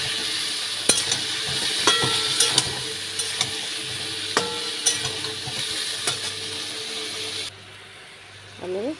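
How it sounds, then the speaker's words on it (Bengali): Shukto vegetables with water are stirred in a pan over a steady sizzle and hiss, with intermittent close utensil scrapes and clinks, and the sound drops quieter near the end. "দিয়ে এটাকে নাড়িয়ে চাড়িয়ে মিশিয়ে দেবো।"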